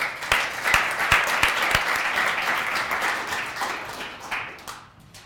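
Audience applause greeting artist Rico Gatson at an evening SVA MFA Fine Arts lecture, a steady roomful of clapping with a few sharp close claps, swelling and then fading out over several seconds.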